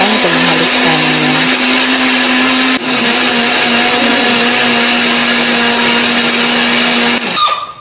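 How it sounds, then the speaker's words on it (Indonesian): An electric blender grinds red chili, shallot, garlic and turmeric with a little water or oil into a paste, a loud, steady motor whine running continuously up close before cutting off abruptly at the end. "Bumbunya akan kita haluskan ya. Beri sedikit air atau minyak supaya lebih gampang untuk menghaluskannya."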